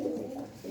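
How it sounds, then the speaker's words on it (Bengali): A small pigeon gives a single short, soft coo, low and close, with nothing else around it. "একবারে ছোট্ট কবুতর"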